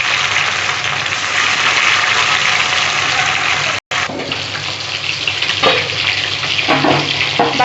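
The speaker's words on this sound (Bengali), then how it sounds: "খুব বড় ওজনের মাছ তো, 6 কিলো ওজনের মাছ, সেই জন্যে মাছটা এত ফুটছে" Large pieces of rohu fish, cut from a six-kilo fish, sputter and sizzle loudly in hot oil with a dense, steady crackle that drops out for a moment and then resumes.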